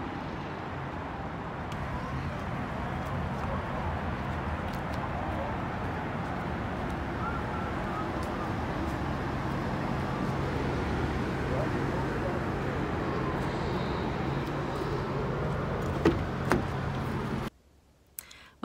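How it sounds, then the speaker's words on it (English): Distant road traffic heard from inside a parked camper van at night, a soft, continuous low murmur and rumble that runs steadily before cutting off abruptly near the end. "the road noise is just like a murmur in the background"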